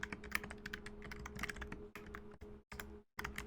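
Rapid keystrokes on a computer keyboard come in quick, uneven bursts with brief pauses, close and clear, with no talking.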